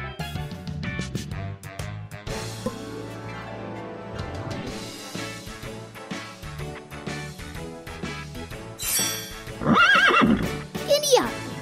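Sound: horse neighing in a children's cartoon game

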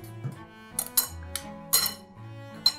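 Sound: mixing tuna and bean salad in a bowl

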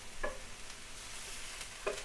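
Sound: onions and beef burgers frying in a pan

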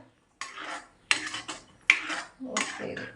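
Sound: stirring curry in a pot

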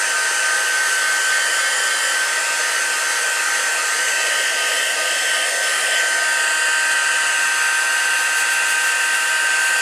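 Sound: heat tool heat-setting ink on a card

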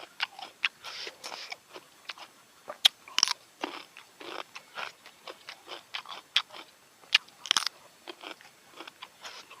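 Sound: biting crunchy raw shrimp marinated in fish sauce

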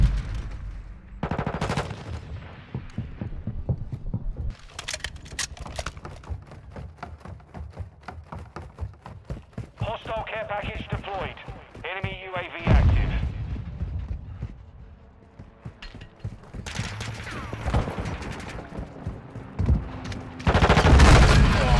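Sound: gunfire from the video game Modern Warfare 2 beta

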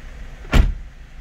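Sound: car door closing on a 2012 Fiat Linea

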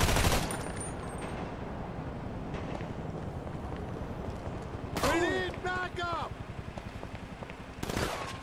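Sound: gunfire from the video game GTA V

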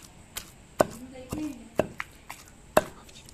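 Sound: pounding cumin seeds in a mortar

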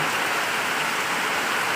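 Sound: heavy rain falling

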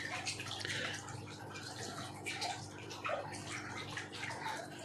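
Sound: small 7-watt submersible pump bubbling water

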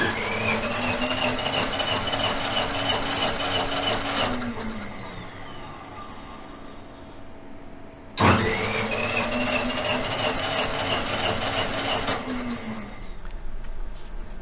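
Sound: engine cranking during compression test

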